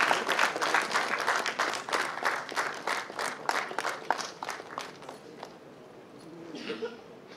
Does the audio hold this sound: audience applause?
yes